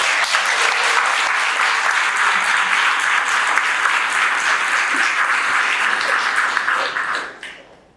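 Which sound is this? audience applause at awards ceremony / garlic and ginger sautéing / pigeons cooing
audience applause at awards ceremony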